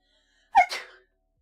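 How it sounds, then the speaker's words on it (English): A single quick, soft sneeze, a short sharp burst followed by a brief breathy trail, then silence. "I gotta sneeze, hold on."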